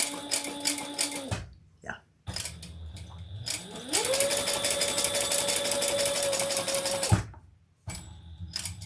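A sewing machine runs close and loud in long steady bursts while stitching bag handles, speeding up into a sustained whir and stopping between runs, with a brief voice between bursts.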